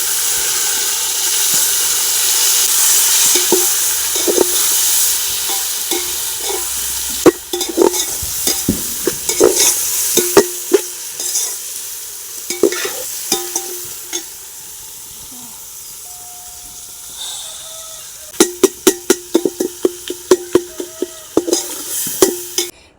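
Tomatoes frying with onions in a pan for country chicken biryani, with a steady sizzle under repeated scraping stir strokes that come in uneven clusters, loud and close.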